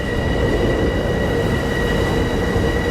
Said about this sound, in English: Now you see a train Far Rockaway has just entered the station.